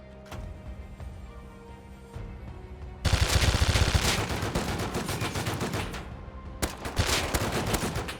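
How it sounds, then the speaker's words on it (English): Rapid automatic gunfire from a scientist shooting below in a game, bursting in loud dense volleys after a quieter stretch, with a short gap before another burst. "That's a scientist shooting at someone else down below."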